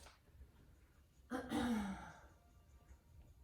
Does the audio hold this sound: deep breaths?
yes